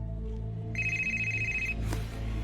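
A telephone rings in a steady electronic trill that starts partway in and holds for about a second, over a low constant hum, then cuts off before a brief click.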